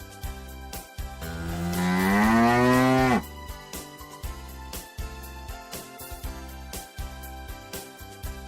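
A cow lets out one long, loud moo that rises and then cuts off, with other animal sounds and farm noises before and after it.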